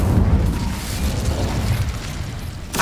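Fire spell cast in Hogwarts Legacy, a steady roaring, rumbling whoosh that holds loud for nearly three seconds before a sharp burst at the end.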